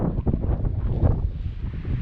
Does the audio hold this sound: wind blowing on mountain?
yes